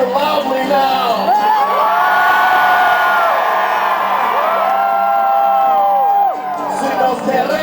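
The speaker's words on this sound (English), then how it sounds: "It's appropriate to cheer loudly now." A large crowd at a union protest at the Capitol in Madison, Wisconsin, cheers loudly and continuously, with whoops and shouts rising above a dense roar that briefly dips near the end.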